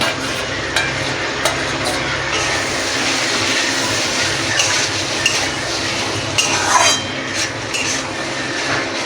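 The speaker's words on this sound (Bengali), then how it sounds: "এবার দিয়ে দেবো চিংড়ি মাছটা, ভেজে রাখা চিংড়ি মাছটা আমি দিয়ে দেব।" Fried prawns tumble into a hot pan with taro stolons, then sizzle loudly and continuously while a spoon stirs and scrapes, adding scattered clacks and knocks over the steady frying hiss.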